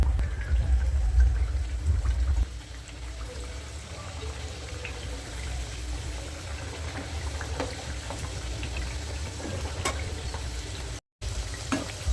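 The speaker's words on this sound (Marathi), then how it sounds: "येईल पूर्ण ते तळते ना तोपर्यंत आपण दुसरा बॅच तयार करूयात" Methi mathri, crisp fenugreek-flavoured dough pieces, fry in hot oil with a steady, close sizzle and bubbling that runs throughout, louder at first and then settling.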